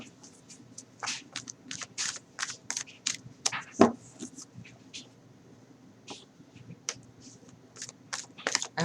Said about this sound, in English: I'm just shuffling the cards and getting the energies going.